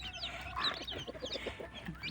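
A mother hen clucks softly while feeding newly hatched chicks on a farm, with rapid low clucks and thin chick peeps repeating close by and fairly quiet.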